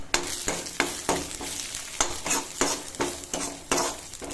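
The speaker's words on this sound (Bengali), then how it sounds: "কড়াইতে আগে সবজি করেছিলাম সেখানে আছে ফিরি এই জন্য ওখানে তেল দিয়া এবার সে বেঁধে নিচ্ছি জিরে গুলো" Cumin seeds fry in oil in a kadai that still holds the vegetables cooked earlier. A bright sizzle pulses under rapid, rhythmic spatula strokes against the metal, several per second and close, with no voices.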